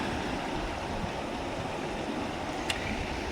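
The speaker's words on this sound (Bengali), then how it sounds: "এভাবে জল বয়ে যাচ্ছে" A swollen monsoon-season river rushes past in a steady, dense wash of flowing water, broadband and continuous throughout, with one brief faint click near the end and no voices.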